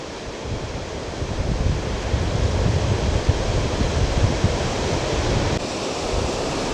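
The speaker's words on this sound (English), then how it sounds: "it is super windy. You can probably tell from the sound from the microphone." Strong wind buffeting a microphone at a cold lakefront beach in Cleveland, a loud continuous low rumble and roar without a break.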